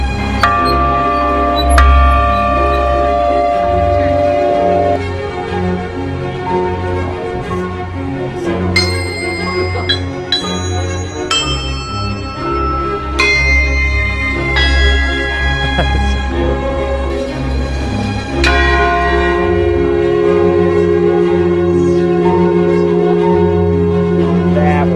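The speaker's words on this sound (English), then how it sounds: "so you'll hear the entire 43 bells ring" Many bells of a 43-bell campanile tower ringing together in sustained, overlapping tones, loud and resonant, with individual strikes rising out of a dense ringing wash.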